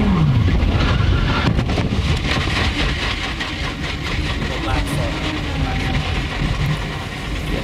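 IndyCar engine heard onboard at the 2009 Indianapolis 500, a loud, steady rumble with wind buffeting as the driver lifts off the throttle before crashing; commentary voices sit underneath.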